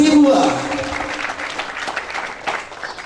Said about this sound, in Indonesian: Berikan tepuk tangan meriah untuk Yuni Sozibwa.